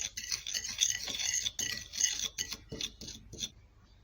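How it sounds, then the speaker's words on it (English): Turmeric powder is stirred into baking soda with a spoon, producing a series of close, scratchy rasping scrapes in an irregular rhythm that fade near the end. "I'm going to add this half spoon of turmeric powder into the baking soda and mix very well."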